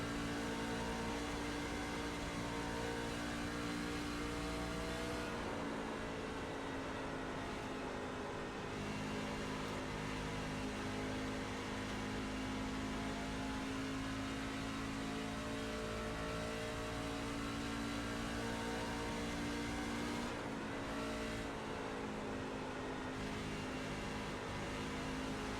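Race cars in an iRacing oval race drone with a steady, loud engine roar throughout, the pitch shifting as cars run side by side into a turn, with brief dips in tone.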